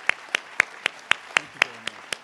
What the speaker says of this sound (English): please give our speakers a round of applause